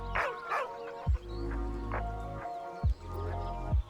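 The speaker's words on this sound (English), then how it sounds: "With a deep, heartbroken whine, the dog bows his head" A dog whines and whimpers in a string of short, high, drawn-out cries broken by a few low thumps. The sounds are fairly quiet and carry no speech.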